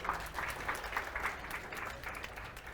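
Brief, fairly quiet applause from a student audience at a panel discussion, a light patter of clapping from a modest room that fades quickly.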